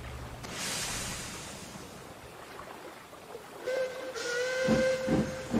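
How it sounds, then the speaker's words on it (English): A steam locomotive in an animated Sodor railway series starts with a burst of hissing steam. Near the end comes a clear, sustained whistle blast. "it's supposed to be Donald's whistle."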